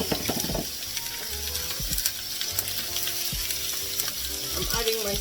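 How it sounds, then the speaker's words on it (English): Steady loud sizzling from a pan of frying scotch bonnet pepper and vegetables sweating before mushrooms go in, with occasional stirring clatter, continuous and close. "I'm adding my scotch bonnet pepper in. And I'm just letting everything just sweat a little bit first before I add my mushroom in."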